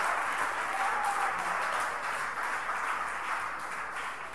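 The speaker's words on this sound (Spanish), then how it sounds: "Denle un aplauso fuerte al Señor." Church congregation applauding the Lord during a Spanish-language sermon, a steady dense wash of clapping hands filling the room, sustained and fairly loud throughout with no talking.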